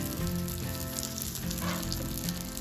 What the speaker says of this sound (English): you can already hear the sizzling of these steaks